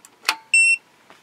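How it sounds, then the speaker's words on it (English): Single steady electronic beep lasting about a quarter second from a DC-DC high-voltage converter power supply for a 1930s transmitter as power is cut, clear and close between faint clicks. "it beeps"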